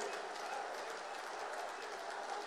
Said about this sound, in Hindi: तालियों के गड़गड़ाहट के साथ इस पवित्र काम के लिए मुझे आशीर्वाद दीजिए